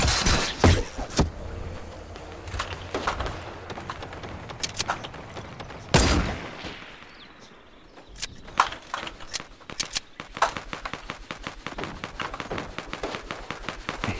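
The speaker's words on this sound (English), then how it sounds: "I hear a lot of gunfire." Gunfire in Fortnite crackles in sharp, scattered bursts, some near and loud, others fainter and rapid, with pauses between volleys.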